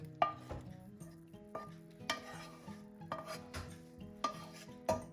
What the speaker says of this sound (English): I'm just going to move it to a slightly deeper pan